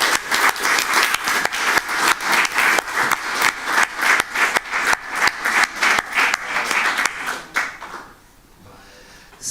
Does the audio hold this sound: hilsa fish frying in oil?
no